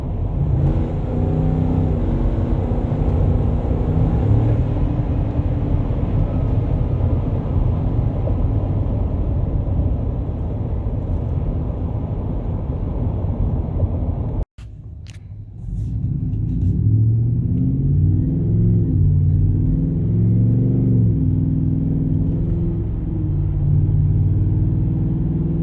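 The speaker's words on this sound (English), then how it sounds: "It's got a nice growl, nice low 60s muscle car sound." A 2023 Ford F-150 pickup with an MBRP aftermarket exhaust accelerates with a loud, deep rumbling growl. There is a brief cut midway, then the engine rises again through the gears in a sustained low roar.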